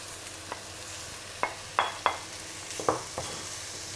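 Morteau sausage frying with butter, shallot and onion in a hot pan, a steady soft sizzle punctuated by several sharp clicks and scrapes of stirring, close and fairly quiet.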